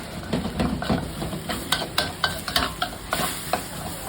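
Garlic stir-fries in a pan for Chiang Mai-style garlic pork, a close sizzle broken by repeated sharp scrapes and clacks of a utensil against the pan in an uneven rhythm, with no talking.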